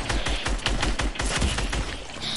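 A rapid fusillade of gunshots from a mobile shooter game, a dense burst of sharp cracks fired in quick succession, loud and close with no voices.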